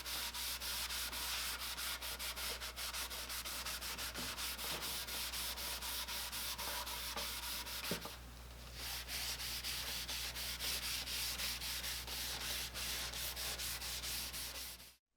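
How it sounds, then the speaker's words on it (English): Paste wax being wiped onto a pine wood quilt rack, a quiet, steady rubbing and brushing that continues without pause, with no voices. "To finish things off, I'll just wipe on some paste wax."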